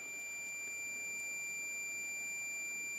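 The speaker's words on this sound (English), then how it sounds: "the multimeter indicates a short circuit" A multimeter's continuity beep holds steady and high-pitched, unbroken for the whole stretch, thin and continuous over faint background hiss, while testing a faulty 24V 960W power supply.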